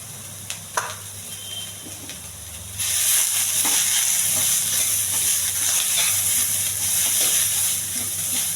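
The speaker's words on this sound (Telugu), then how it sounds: "ఎక్కువ నూనె లేకుండా చేసిన తాలింపు ఇది" Tempering with salt, chili powder and turmeric frying in a pan with little oil: faint clicks give way to a steady loud sizzle and hiss that continues evenly after the spices hit the hot pan.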